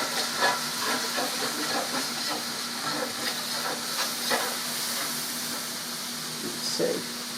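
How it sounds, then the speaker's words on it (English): A whole 14-ounce can of beef broth goes into a hot pan of hamburger steak and onions, giving a steady, close hissing sizzle that lasts throughout. "instead of adding a cup of beef broth, I'm going to add the whole can"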